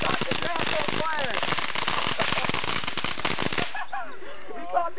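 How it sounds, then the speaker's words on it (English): Grass catching fire in a game, a dense burst of loud crackling and popping that cuts off abruptly, leaving faint scattered crackles and excited voices. "It caught the grass on fire!"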